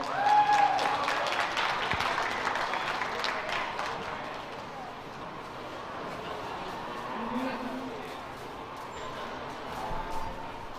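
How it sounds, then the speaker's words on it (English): An audience at a youth fair livestock show applauds after a heifer entry in the show ring. The clapping is loud and dense at first, then thins and fades, with crowd noise and some talk underneath. "Let's give him a round of applause."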